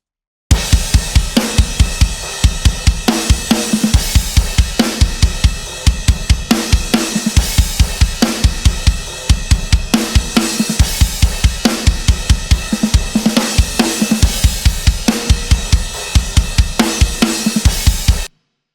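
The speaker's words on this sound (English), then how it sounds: "So now if we listen to the drums as a whole now, they sound like this" A full punk rock drum kit played through heavily compressed room mics pounds out a steady, driving beat of dense, crashing hits for nearly twenty seconds, loud and washy with cymbals filling the top.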